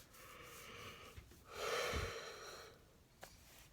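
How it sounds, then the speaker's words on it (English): A person yawning late at night, one long breathy drawn-out yawn that swells and fades, fairly quiet, with softer breaths before and after. "I'm sorry that I'm yawning so much."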